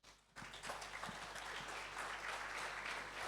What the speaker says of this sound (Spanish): denle un fuerte aplauso, porque Él se lo merece